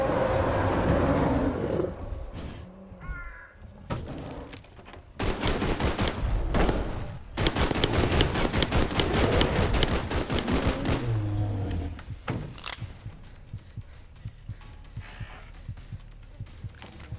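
Assault rifle fire in the Bigfoot hunting video game, long rapid bursts of loud automatic shots separated by short pauses, fading to scattered single shots near the end.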